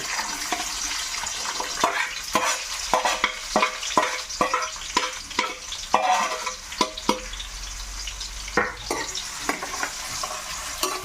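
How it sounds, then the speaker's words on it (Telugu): Onions fry and sizzle in a pan for Nellore fish curry while a spoon stirs them in repeated, close scraping strokes. The sizzle runs steadily underneath, with no voices. "ఇవి మనం బాగా వేగేదాకా కర్రగా వేగేదాకా ఉల్లిపాయలు తిప్పుకోవాలి ఫ్రెండ్స్"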